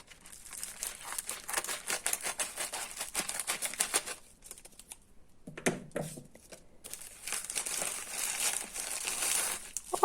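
Crinkly wrapping is handled and torn while a mail parcel is opened, with close, busy rustling and crackling that pauses briefly midway and then resumes.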